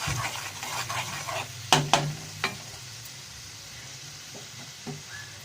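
Spice paste hits onions in a hot pan and sizzles, with stirring scrapes and a few sharp utensil knocks, the hiss fading to a quieter simmer.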